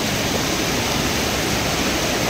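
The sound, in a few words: cold mountain river flowing in Borjomi Park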